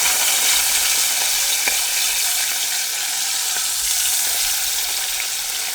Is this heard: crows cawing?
no